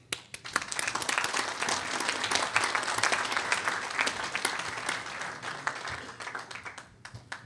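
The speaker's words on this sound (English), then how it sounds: "So we all owe applause to Mr. Andrzejewski." A conference audience applauds steadily, a dense wash of clapping that holds for several seconds before tapering slightly.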